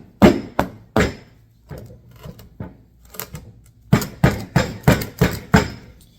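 Hammer blows ring on the metal part of a John Deere 40/M hydraulic pump: a few strong hits, some lighter taps, then a quick run of six hard strikes, close and loud.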